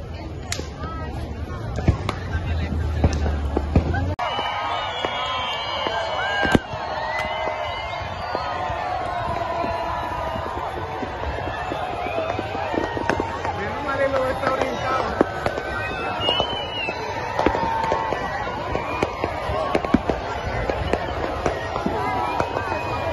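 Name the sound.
fireworks exploding at a beach bonfire night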